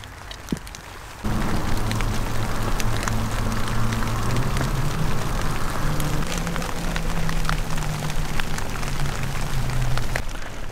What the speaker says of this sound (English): It's starting to rain a bit, so I'm just going to hide under my boat